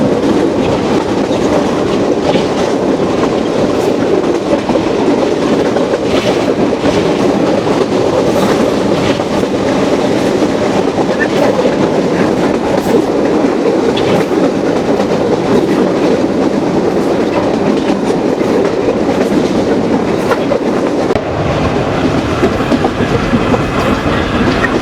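Rupsha Express rolling on rails, heard from on board as a loud, continuous roar with a clattering rhythm of wheels over track joints that stays dense and close for the whole stretch.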